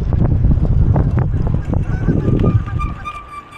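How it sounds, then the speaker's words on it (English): High-pitched bicycle brake squeal rising over buffeting wind noise and rattling, ending in a thin sustained squeak. "there's the brakes are squeaking"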